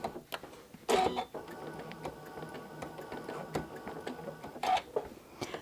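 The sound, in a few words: sewing machine stitching a thread-painted landscape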